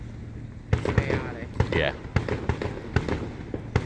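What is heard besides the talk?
fireworks exploding from a stadium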